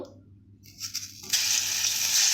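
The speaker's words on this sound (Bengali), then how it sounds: "তো উচ্ছেটাকে আমি ভেজে নেব" Thickly cut bitter gourd pieces go into hot oil: near silence gives way to a few faint clinks, then a sudden bright sizzle bursts up and carries on steadily, close and unaccompanied by speech.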